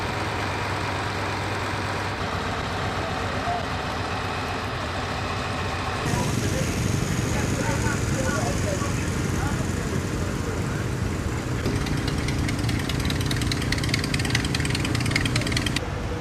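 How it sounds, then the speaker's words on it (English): Late-1940s German-built Allgäu tractor engine running steadily at a show, a continuous mechanical drone that grows louder partway through, mixed with surrounding crowd and talk. "The German-built Allgäu tractor."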